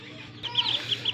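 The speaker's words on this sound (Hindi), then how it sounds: "ये है मेरे बच्चों के चूज़े, जिनमें हैं बत्तखें" High-pitched peeping and cheeping from ducklings, several short chirps in quick succession over a low steady background hum.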